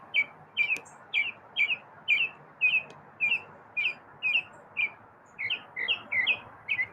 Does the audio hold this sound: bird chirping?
yes